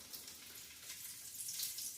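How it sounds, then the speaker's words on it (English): Leftover potatoes sizzle steadily in a teaspoon of hot olive oil, a soft continuous crackle and hiss that swells slightly near the end. "Now this is already starting to sizzle"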